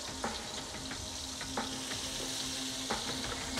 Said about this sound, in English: I'm gonna add the shrimp, let them stir fry first